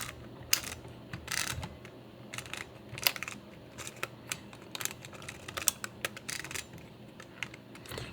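A Lomography La Sardina camera's film advance being wound by hand: a rapid series of close, dry ratcheting clicks in irregular bursts, with no talking.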